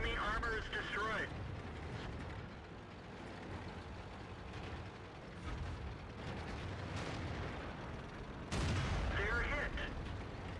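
Tank cannon fire in a T-54 video game battle, with sharp blasts near the start and again late, separated by rumbling engine and battle noise, while a player's voice talks over parts of it.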